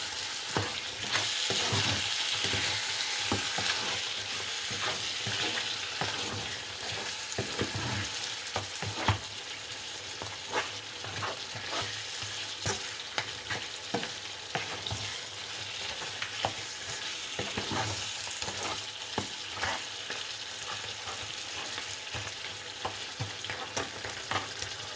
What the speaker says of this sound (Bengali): এখন বিরিয়ানি মশলাটা দিয়ে মাংসটা আরও একটু সময় কষায় নিব।